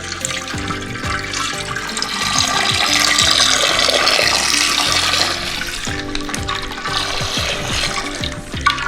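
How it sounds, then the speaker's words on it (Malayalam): Half a litre of packet milk plus leftover milk poured into a pot for pink palada payasam, a loud continuous liquid stream with clinking and knocking of the vessel, no voices. "ഒരു 1/2 ലിറ്റർ കവർ പാലും പിന്നെ കണ്ടൻസ് മിൽക്ക് ഉണ്ടാക്കി എടുത്ത പാലിൻ്റെ ബാക്കിയും കൂടി നമ്മൾ ഇതിലേക്ക് ഒഴിക്കുക"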